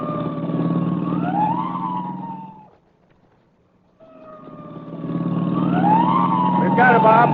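A loud siren wails, rising and falling twice, fading out briefly to near silence before starting up again, with an engine rumbling underneath.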